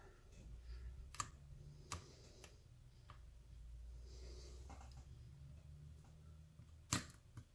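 Small sharp clicks come from a lock being picked, several faint isolated ticks spaced irregularly over a low background hum, with a louder click near the end.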